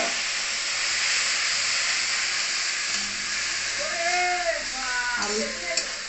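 Spice paste dropped into hot oil in a pan sizzles loudly and evenly for a dal dish, as a short voice speaks near the end.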